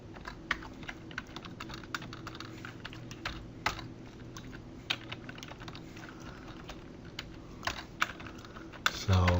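Continuous soft clicking of a computer keyboard while editing code, close and quiet, with irregular keystrokes and occasional louder taps, no one speaking.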